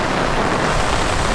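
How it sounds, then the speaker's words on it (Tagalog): Heavy rain pours during a typhoon on Boracay, a loud, dense, unbroken hiss close to the listener with no gaps. "Sabi, lakas ng ulan."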